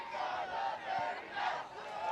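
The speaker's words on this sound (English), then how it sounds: "Orchestrated cheers from the Breck section, trying to cheer on their Mustang girls soccer team." Organized chanting and cheering from the Breck student section at a Mustangs girls high school soccer match, a steady crowd roar with rising and falling rhythmic surges across the stands.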